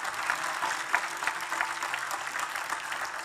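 Audience at an innovation awards ceremony applauding, a sustained patter of many hands clapping at moderate distance, fairly even with small swells, no voices over it.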